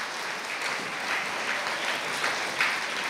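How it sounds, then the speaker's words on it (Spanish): Steady applause from an audience at a school awards ceremony honoring winning classrooms, a moderate, even wash of clapping that carries on without pause, heard at some distance. "voy a pedir fuertes aplausos para cada uno de los salones que voy a mencionar"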